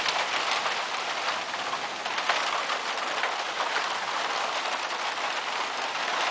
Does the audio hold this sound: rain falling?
yes